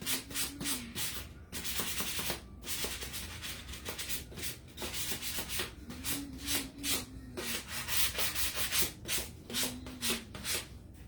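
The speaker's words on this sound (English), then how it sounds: "I'm going to sand it up a little bit" Steady rhythmic sanding rubs across a black-painted wooden fall leaf decoration, close and continuous strokes with brief pauses, no voices.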